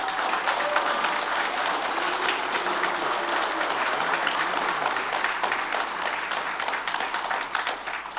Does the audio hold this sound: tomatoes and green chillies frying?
no